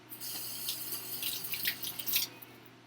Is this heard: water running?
yes